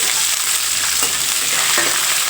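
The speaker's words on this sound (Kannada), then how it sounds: "ಕರಿಬೇವು ಹಾಕ್ರಿ ನೋಡಿರಿ ಈ ಥರ ಚೆನ್ನಾಗ ಫ್ರೈ ಮಾಡಬೇಕು" Curry leaves fry in hot oil for a churumuri seasoning, giving a steady, close crackling sizzle with a few sharp pops and stirring scrapes and no voices.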